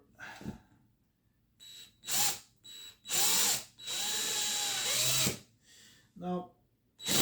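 A power drill drives screws into the shelf holder of a Fluval Siena 330 aquarium stand, whirring in several short bursts of varying length separated by pauses, with a voice talking at times between them.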